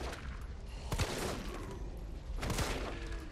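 A handgun fires in Resident Evil 3 Remake: two sharp shots about a second and a half apart, each with a brief echoing tail over low background ambience.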